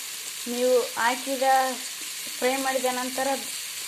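Pulao ingredients fry in a pan with homemade masala, giving a steady broadband sizzle throughout while a hummed or sung voice rises in two short phrases over it.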